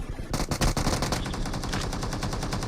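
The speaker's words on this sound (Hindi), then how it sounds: "क्या मार रहा हूँ मैं शॉटगन से" Rapid gunfire from an M1014 semi-automatic shotgun in PUBG team deathmatch, a dense run of loud, closely spaced shots starting after a brief quiet moment and continuing steadily.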